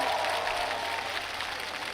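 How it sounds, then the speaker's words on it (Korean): Fairly faint applause from a distant crowd at an outdoor sports-festival opening ceremony in Gapyeong, a soft continuous patter of clapping that fades slightly toward the end. "다시 한번 큰 박수 부탁드립니다."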